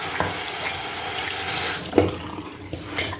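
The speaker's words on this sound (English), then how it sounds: "Let me wash my hands." A tap runs steadily into a sink while hands are washed, a continuous close hiss of water with small splashes and a few knocks along the way.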